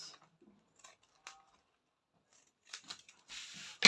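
Scissors cut through a paper sewing pattern for a keyhole corset jacket: a few faint, sparse snips, then a louder run of cutting near the end, with no talking.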